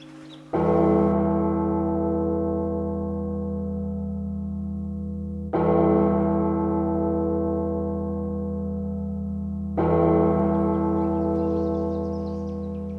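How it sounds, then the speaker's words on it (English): Church bells in a Micronesian village toll slowly for the De Profundis after a villager's death, three deep ringing strikes with long humming decays that fade between each blow, heard alone. "The slow tolling of the 9 bells for the De Profundis at the death of a villager."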